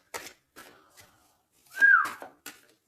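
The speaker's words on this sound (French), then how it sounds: "Non, c'est pas bien sifflé, pardon." A person whistles a short, bending tone that rises and then falls, loud and close. Brief bits of speech-like sound and clicks come before and after it.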